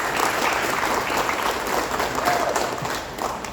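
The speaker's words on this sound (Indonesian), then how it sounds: "Tepuk tangan dulu untuk kita semua" Audience applause fills a corporate anniversary seminar hall, steady dense clapping from a crowd running throughout at a fairly loud, even level.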